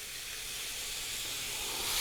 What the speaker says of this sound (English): So we're gonna go ahead and put the panini part down.